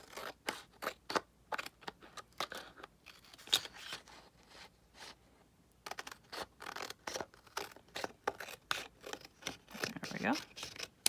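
Scissors snip repeatedly through paper scraps and junk mail while a journal card tag is trimmed, a close, steady run of crisp cuts with a brief pause partway through.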